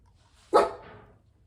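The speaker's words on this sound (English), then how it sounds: "Sorry, that's Morgan's dog." A single dog bark from a short distance, sharp and moderately loud and trailing off quickly, heard alone against a quiet room with no talking.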